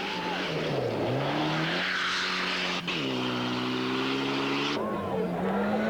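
A Mitsubishi Group N rally car on a stage of the 1994 Flesberg Rally in Norway, its engine loud and close, revving and shifting through gears with a steady roar, under a commentator's voice.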